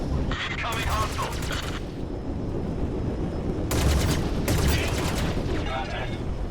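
Gunfire striking a ship's shields in the space game Star Citizen: two dense bursts of rapid shots, each lasting over a second, rattling over a steady engine rumble, with a synthetic computer voice in the background.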